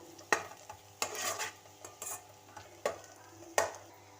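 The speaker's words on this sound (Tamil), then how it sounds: "பாருங்க, வெங்காயம் இந்த அளவு நல்லா வறுபடணும்." Onions sizzle frying in a hot pan while a utensil stirs and scrapes, with several sharp clacks against the pan.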